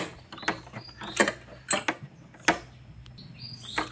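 A spanner turns to tighten the spark plug on an EX5 motorcycle, making several sharp metallic clicks and ratcheting snaps in an irregular rhythm, close up and moderately loud.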